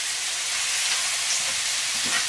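Food sizzles and fries steadily in a pan while moussaka is cooked at home, a dense, continuous crackling hiss that holds level throughout, close and fairly loud with no talking over it.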